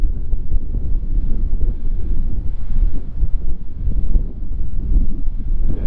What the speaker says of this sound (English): Yeah, it's freezing, that wind.